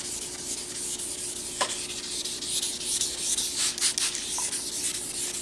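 Sandpaper scrubs steadily across a car headlight lens, a continuous close gritty rubbing with rhythmic sweeping strokes and no speech.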